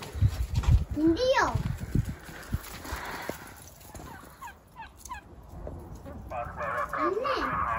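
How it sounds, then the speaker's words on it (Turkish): Poultry on a village farm in Turkey, including a turkey, give loud gobbling calls in bursts, with some clopping and people talking nearby. "Birazcık tavukları çekelim."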